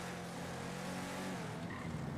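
A Ford Mustang Hoonicorn RTR in a drift racing video game, a short faint burst of engine drone with rising and falling pitch, heard alone.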